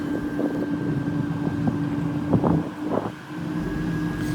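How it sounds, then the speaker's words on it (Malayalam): Strong wind blows and buffets the microphone in a continuous rumble in Vietnam, with a steady hum and faint passing traffic underneath. "നല്ല കാറ്റാണ് കേട്ടോ അതുകൊണ്ടാണ് ആ കാറ്റടിക്കുന്ന ശബ്ദമാണ് കേൾക്കുന്നത്"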